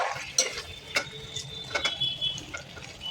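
Chicken being stirred with spices in a pan: a spoon scrapes and clicks against the metal in irregular strokes, over a faint sizzle, close and fairly quiet.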